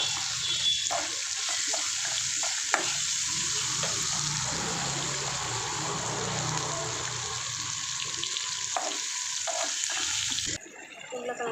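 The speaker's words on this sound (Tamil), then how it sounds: "நான் கொஞ்சம் ப்ரௌன் ஆகுற வரைக்கும் நான் வந்து ஃப்ரை பண்ணுவேன்" Onions frying in a pan for ragi semiya upma give off a steady, close hiss and crackle that runs unbroken for about ten seconds before dropping away abruptly.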